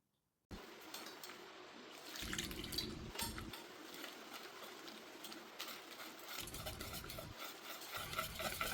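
Dosa batter of curd and water whisked in a bowl, a continuous close scraping and sloshing stir with brief louder bursts of vigorous whisking.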